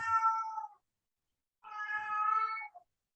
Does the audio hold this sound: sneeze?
no